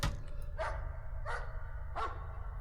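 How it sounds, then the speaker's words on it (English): Three evenly spaced dog barks in the video game Layers of Fear, moderately distant, over a steady low rumble of background noise. "I hear a dog barking."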